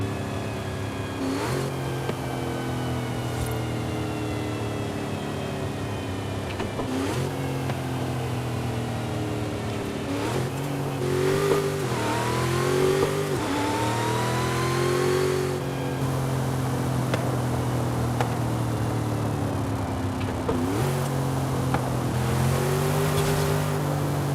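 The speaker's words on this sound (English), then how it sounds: "y'all hear that rev match?" A 1970 Chevrolet Chevelle SS 454 V8 revs repeatedly at speed, its engine note rising and falling through a series of sharp throttle blips and rev-matched downshifts, loud and close with steady road and wind noise underneath.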